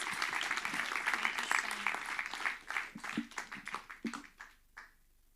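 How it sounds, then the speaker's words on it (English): Applause for Jessica and Joondalup at a community event, a fairly quiet patter of clapping that thins into a few scattered claps and fades out. "Please give Jessica and Joondalup a massive round of applause"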